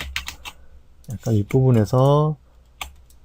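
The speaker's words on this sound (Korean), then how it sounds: "쉬프트 키 누르시고 브러쉬 잡고 쭉 끄면은" Keys on a computer keyboard pressed while working in Photoshop give a few sharp, close clicks at the start and near the end, with a person speaking between them.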